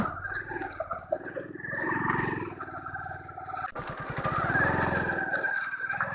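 A motorcycle labors in first gear climbing a steep ghat road, a steady, strained drone that rises in pitch, heard up close and continuous throughout.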